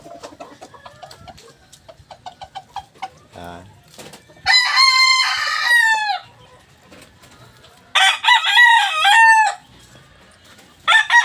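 Young gamecock stags in a backyard, clucking softly at first, then two loud close crows a few seconds apart, with a brief flutter between them.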